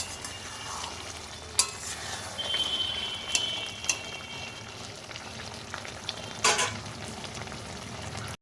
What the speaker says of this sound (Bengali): তরকারিটা ভালোই ফুটছে, তলাও লেগে যায়নি